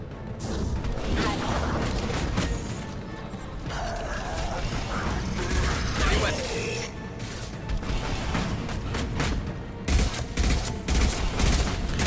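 Rapid mechanical gunfire bursts and metallic clatter in the video game Mass Effect 2, dense and irregular with sharp impacts and rattling, with a player speaking now and then.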